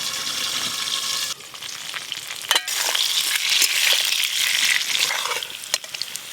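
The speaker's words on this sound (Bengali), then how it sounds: "ওই একই তেলে মাছের মতো লাল লাল করে আলুগুলোও ভেজে নেব" Potatoes frying in the same oil used to fry silver carp, a dense close sizzle with pressing and scraping stirs of a spatula that briefly cut through, no voices.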